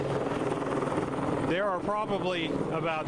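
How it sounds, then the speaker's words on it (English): A Tulsa police helicopter flies overhead during a police funeral, giving a steady, loud rotor rumble and thrum throughout, with someone talking over it partway through. "You can hear the helicopter, the Tulsa police helicopter in the air right now"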